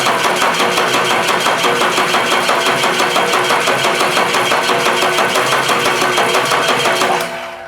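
An old Ford engine spins over steadily on its starter to circulate oil, a loud continuous mechanical churn with a fast regular pulse that runs for about seven seconds and then stops.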